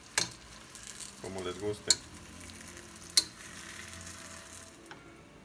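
Tortilla pieces frying in a pan of oil for chilaquiles verdes, a quiet steady sizzle with a few sharp clicks and scrapes on top.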